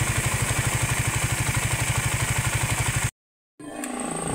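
A Raider 150 Fi motorcycle engine idles while warming up, a steady close, rhythmic chugging that cuts out abruptly near the end, followed by a fainter resumed hum.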